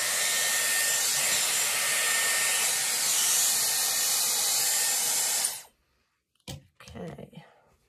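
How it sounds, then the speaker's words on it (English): A Dyson Airwrap hair dryer runs loud and steady at close range during a round-brush salon blow dry, hissing continuously for over five seconds before cutting off abruptly, followed by a few faint handling clicks and rustles. "that would be my round brush blow dry"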